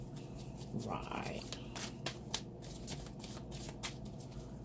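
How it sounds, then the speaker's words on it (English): A deck of tarot cards is shuffled close up in a quiet room, giving a run of soft papery riffles and crisp flicks at an uneven rhythm, with faint murmuring underneath. "I'm shuffling different on camera"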